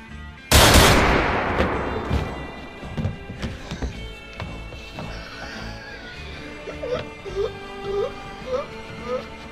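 A single loud gunshot cracks out in a comedic western standoff and quickly decays. Voices and scattered lighter sounds follow.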